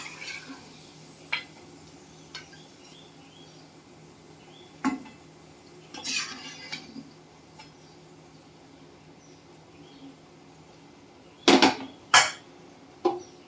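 Fried crab fritters (khekda bhaji) are moved into a metal pot: sparse soft clinks and scrapes against a quiet kitchen background, ending in a few louder, sharp metallic clatters close by.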